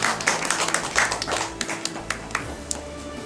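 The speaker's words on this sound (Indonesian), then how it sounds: "Ya, kita tepuk tangan." An audience at a Lio Ende engagement ceremony in Denpasar breaks into brief, scattered hand clapping, heard nearby as sharp, uneven claps that quickly thin out.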